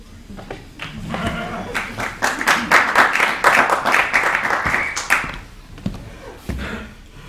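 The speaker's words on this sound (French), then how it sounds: "Je vous demande de l'applaudir." An audience at a theatre show applauds a mock presidential candidate, scattered claps and taps building into a louder patter of clapping in the middle, then dropping back to a few isolated hits near the end.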